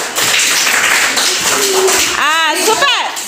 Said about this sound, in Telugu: మీరు క్లాప్స్ ఇవ్వాలి.